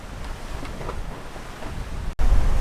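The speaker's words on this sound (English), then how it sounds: "It's fairly breezy" A sailing boat leaving an anchorage in a fair breeze, around force 4, with steady wind rush and water washing against the hull, close and constant, briefly cut by a short gap before louder buffeting resumes.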